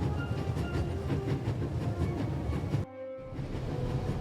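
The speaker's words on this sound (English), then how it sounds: "There's nothing quite like traveling on a train." Train travel in the video game The Raven, a steady loud rumbling rattle of a moving carriage with rhythmic clatter, briefly dropping out near the end before resuming.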